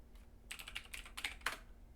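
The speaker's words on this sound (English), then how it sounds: "a lot of my colleagues do not like my mechanical keyboard" Rapid clacking of a mechanical keyboard being typed on, a burst of closely spaced keystrokes at moderate loudness, alone with no voices.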